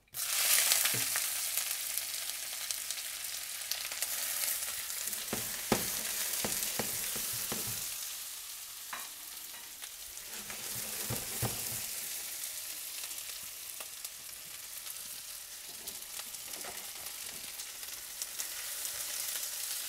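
Onions, leek, ginger, garlic, chili and coriander roots frying in oil for a Szechuan cod soup, a continuous close hiss of sizzling broken by scattered scrapes and taps of stirring, with no voices.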